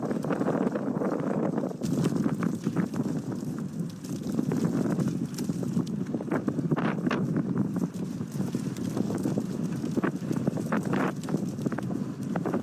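Strong wind gusts through a storm-devastated town and buffets the microphone, making a constant loud rushing roar with rattling bursts and irregular thumps throughout.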